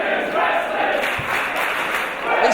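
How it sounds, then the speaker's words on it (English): A wrestling crowd at a WCPW women's no-holds-barred match roars steadily in a dense, reverberant arena wash, swelling slightly near the end, with no distinct chant words standing out. "This crowd chanting their approval for women's wrestling here in WCPW."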